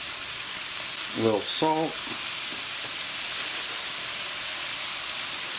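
Green onion and salt sizzle in a pan while fried rice cooks, a steady broadband crackle running throughout at moderate level, with a brief spoken phrase partway through.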